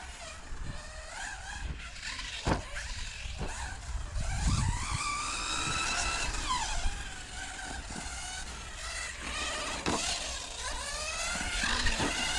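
Hobao Hyper 10 SC 2.0 short course RC car on a 2S battery, driving laps on a carpet track: a steady whining electric motor that rises and falls in pitch, with sharp scuffs of tires, loud and continuous throughout.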